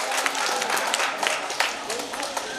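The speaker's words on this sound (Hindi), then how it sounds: "तो जोरदार तालियों के साथ इनका स्वागत करें" An audience claps loudly to welcome a guest at a Louis Braille birth anniversary ceremony, a dense, sustained burst of applause with sharp individual claps standing out throughout.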